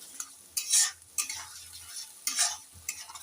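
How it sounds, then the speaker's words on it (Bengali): Spices with cumin paste are stir-fried in a pan, making a few distinct scraping strokes of a spatula over a soft, low sizzle, close by and with no one talking. "এবার সব উপকরণগুলো আমি ভালো করে কষিয়ে নিব।"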